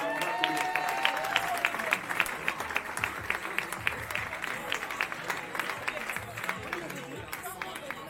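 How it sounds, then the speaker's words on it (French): An audience applauds in a hotel hall at the Hilton in Pointe-Noire, dense steady clapping with crowd murmur running throughout at moderate loudness. "Continuez à applaudir, continuez à applaudir."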